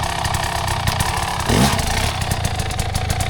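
An enduro motorcycle is ridden on light throttle at a skills day, its engine burbling steadily up close with a brief rev and some rattling clatter over the low chug.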